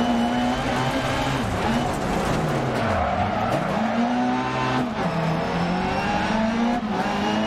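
Rally car engine revving and sliding on asphalt in DiRT Rally 2.0, a loud continuous run of shifting engine tones with tire squeal and skidding as the handbrake swings the car through turns.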